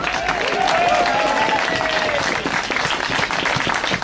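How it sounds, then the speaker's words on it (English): Applause for tree campaigners, a crowd clapping steadily and loudly for the full length, dense and close, with a few voices mixed in. "round of applause to all these tree campaigners"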